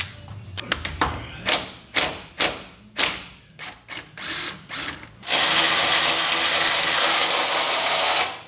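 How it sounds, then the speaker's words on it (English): Hand tools loosening bolts on a B20 VTEC turbo drag car: a series of sharp ratcheting bursts and clanks, then a loud sustained whir of a power tool running steadily to the end. "take them bolts out, Gert"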